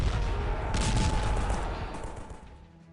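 Dense battle gunfire rumbles in the World War I strategy game Strategic Command: World War 1, a loud sustained fusillade of overlapping shots and booms that fades toward the end.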